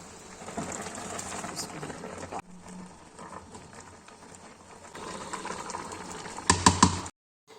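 Hot water poured into a pot of slow-simmering mustard greens saag: a steady bubbling, sizzling wash that continues, thins for a while, then swells again with a few sharp knocks near the end.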